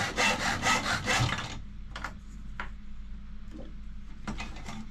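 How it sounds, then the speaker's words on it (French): Hand sawing through wooden supports: quick rasping back-and-forth strokes for over a second, then stopping, followed by a few scattered scrapes and knocks. "Alors je scie mes supports pour surhausser mon plateau de la gare."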